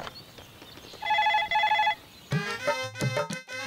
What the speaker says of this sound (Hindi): रिंग हो रही है